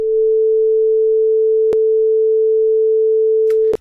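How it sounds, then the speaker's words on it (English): Steady pure sine wave test tone played in Reaper, loud and constant throughout, with a brief click partway and another near the end. "you'll hear the sine wave."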